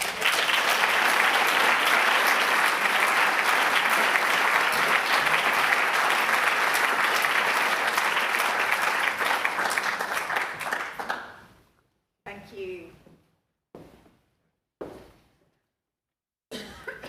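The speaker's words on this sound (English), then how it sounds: "Please help me give a warm round of applause to Emma Howard Boyd." Sustained, dense applause fills a hall as a speaker is welcomed at an environmental awards ceremony, holding steady for about eleven seconds before fading into quiet with a few scattered coughs and room sounds.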